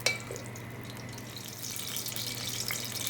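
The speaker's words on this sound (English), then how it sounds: "You can hear the little bubbles." Vegetable oil heating in a pan for keema curry gives off a steady, soft fizz of small bubbles, close and fairly quiet, over a low hum.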